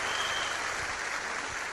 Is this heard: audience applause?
yes